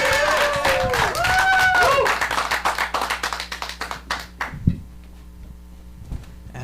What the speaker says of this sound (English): All right, start clapping right now.